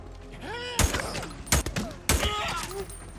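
Gunfire in the game Days Gone: three sharp, loud shots spaced about a second apart, each with a short echoing tail, while a voice murmurs faintly between them.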